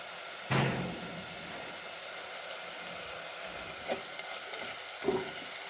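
Crushed ginger and garlic drop into a pan of sautéing onion, setting off a sharp burst of sizzling that settles into a steady fry with a few stirring scrapes.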